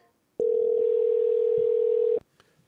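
A steady telephone dial tone hums loud and unbroken for about two seconds after a call goes unanswered, cutting off abruptly, with faint clicks trailing behind.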